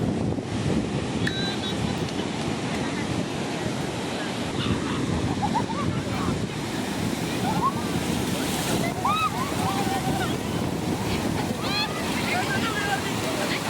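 Sea waves wash onto the beach at Cox's Bazar in a steady, loud roar of surf with wind buffeting the microphone, continuous throughout with a few faint bird-like chirps above.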